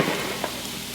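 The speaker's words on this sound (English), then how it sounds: "So let's just put this one right onto our grill. It's starting to get nice and hot there now." Pork sausage sizzling on a hot indoor grill, a steady close frying hiss with faint crackles, continuous and alone.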